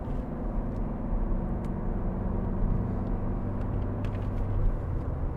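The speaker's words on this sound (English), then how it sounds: "Nice, powerful, low-end torquey engine" A 2012 Ford Fiesta 1.4 TDCi diesel Zetec hatchback cruising, its engine and road noise forming a steady, close low rumble that holds even throughout with no voices.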